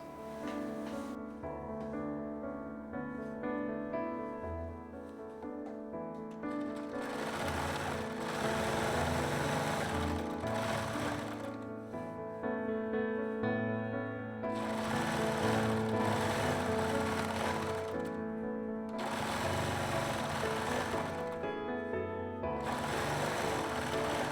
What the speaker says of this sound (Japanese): ヨーク切り替えにロックミシンをかけます